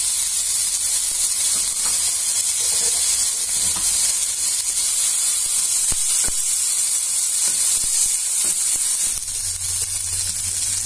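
Ginger and garlic paste sizzling in a pan of browned onions for a Bengali-style egg curry, a steady close hiss and crackle that holds without a break, with occasional small pops.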